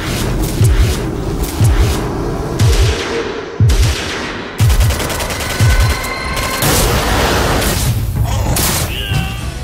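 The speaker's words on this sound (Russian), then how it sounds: "И спокойно расстреливаете их всех из автомата." Automatic rifle fire in a video game comes as loud, rapid bursts repeated again and again, mixed with heavy booms and thuds in a dense, continuous battle soundscape.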